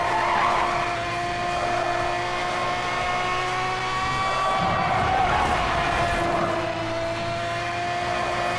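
Tires skid and squeal as a car drifts in the racing game Need for Speed Hot Pursuit Remastered, a steady engine drone running under sustained screeching for the whole stretch.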